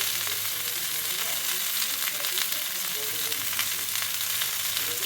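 Marinated tandoori chicken roasts on a hot tawa, giving a steady, even sizzle that holds at a constant level throughout with no voices.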